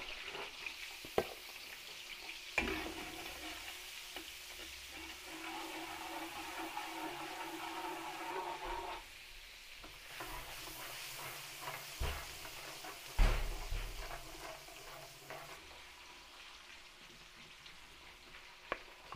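Garlic frying in a pan for a Filipino home-cooked dish, a steady close sizzle running throughout with a few clunks and knocks of utensils against the pan, no talking.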